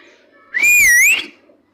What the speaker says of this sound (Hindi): वो एक सीटी बजाती है।